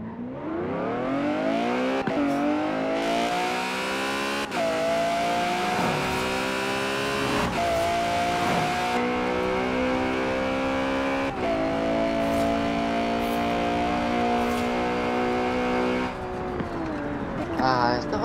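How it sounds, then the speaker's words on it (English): Car engine in the racing video game Forza Horizon 4, a loud, continuous engine note climbing through the revs with several sharp gear-shift drops, close and dominant throughout. "It's not as good as I thought. In terms of the car sound."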